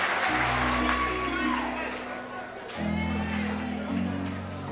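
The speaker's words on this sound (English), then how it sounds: "I never get this type of applause, so I'm jealous." A studio audience on a talk show applauds over loud music with a deep, steady bass line. The clapping is a wash of noise under the music and swells again midway.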